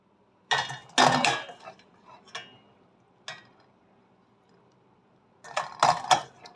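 Boiled chips lifted from a pot with a metal slotted spoon, a few sharp clanks and scrapes against the pot in separate bursts with quiet pauses between, close and clear.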